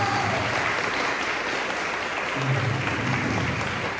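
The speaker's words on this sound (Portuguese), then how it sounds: "Aplausos, Jesus." A crowd claps steadily and loudly throughout at a Catholic testimony gathering, a dense wash of applause with faint voices mixed underneath.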